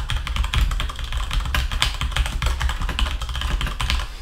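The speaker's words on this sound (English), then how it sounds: "Sorry for the loud keyboard." Rapid, loud clacking of a computer keyboard being typed on continuously while coding, keys striking in a quick uneven rhythm close up.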